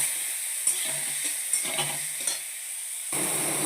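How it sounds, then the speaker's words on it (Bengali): Jamun fruit stirred in a hot pan with five-spice and dried red chillies, a soft sizzle broken by several scraping spatula strokes and light clinks, then a louder hiss near the end; no talking. "এর মধ্যে এবার এই জামটাকে দিয়ে কিছুক্ষণ নাড়িয়ে নেব।"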